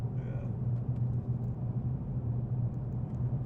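An Audi TT Black Edition with a dual-clutch gearbox being driven, a steady low engine and road rumble heard from inside the cabin, continuous and even.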